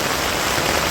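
Heavy rain pounds steadily on a village rooftop where water is pooling, a dense, continuous hiss close by with no pauses and no voices.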